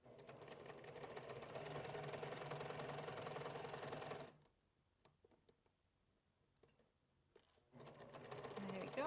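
A sewing machine stitches flutter sleeves onto a blouse bodice, running in a fast, steady mechanical chatter for about four seconds, pausing with faint clicks, then starting again near the end.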